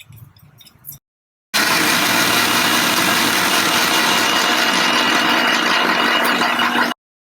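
A mixer grinder blends soaked charmagaz seeds to a paste, a loud, steady whirring drone that starts abruptly after a short pause and runs continuously for several seconds before cutting off.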